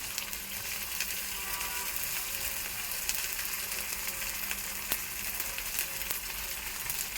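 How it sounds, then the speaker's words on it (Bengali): Garlic paste and cumin paste sizzle and crackle steadily in a hot pan, a dense, even frying hiss with occasional pops, with no talking over it. "ভালোভাবে কষিয়ে নেব।"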